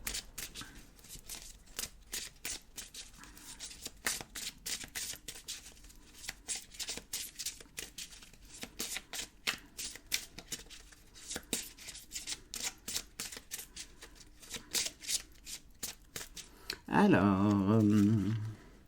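A deck of oracle cards is shuffled in quick, steady riffling bursts throughout, fairly close and crisp, before a short spoken phrase near the end.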